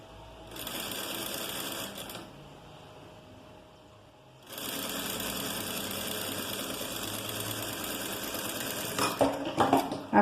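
Domestic sewing machine stitching a garment seam from shoulder to neckline, a steady close mechanical whirr in two bursts separated by a short pause, ending with a few clicks and knocks.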